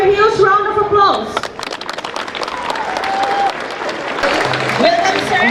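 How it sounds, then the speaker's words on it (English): A huge round of audience applause for the chief guest at a school science and art exhibition in Diphu, swelling after a brief stretch of talk and then running on as dense clapping with voices and tonal sounds weaving through it. "Let us all give him a huge round of applause"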